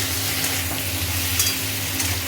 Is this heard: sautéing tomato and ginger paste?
yes